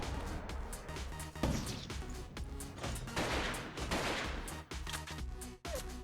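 Missile explosions in the video game Artificial Defense burst in a dense, chaotic barrage of crashing blasts and rattling impacts, fairly quiet and continuous throughout.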